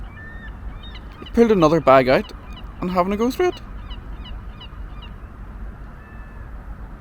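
Loud honking calls in two short bursts, close by, from a large bird at a small secluded harbour pulling rubbish out of a bin, with a voice speaking briefly.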